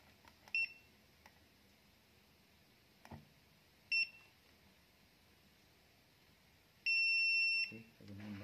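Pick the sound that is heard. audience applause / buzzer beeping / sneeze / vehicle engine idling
buzzer beeping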